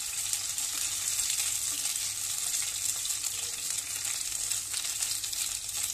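Cauliflower florets fry in hot oil in a pan, a steady, dense crackling sizzle that carries evenly and close throughout without pause.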